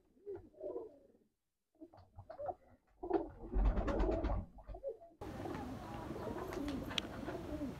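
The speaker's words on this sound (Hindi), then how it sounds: "अभी आपको बाहर निकाल के भी दिखाऊंगा मैं सारे कबूतर।" Rampuri and golden Sialkoti pigeons coo in repeated soft, throaty bursts close by, growing busier and louder midway, with a denser background of overlapping bird calls toward the end.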